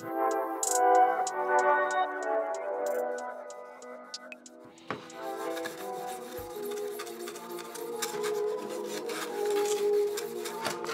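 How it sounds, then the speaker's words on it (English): Rough cut edges of a plastic BMW E39 taillight housing are sanded by hand with repeated rasping strokes, close and steady, over about eleven seconds with no talking. "I started by sanding all the rough edges away"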